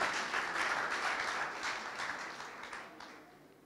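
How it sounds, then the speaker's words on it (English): A church congregation applauds its mothers with a dense burst of clapping from many hands. The clapping is loud at first and then gradually fades out, with no speech over it. "I think we need to clap for our mothers in the house."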